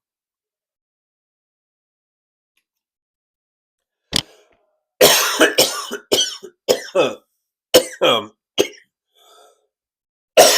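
Near silence, then a string of harsh coughs and throat clearing close to the microphone, several sharp bursts in quick succession with a brief spoken word among them.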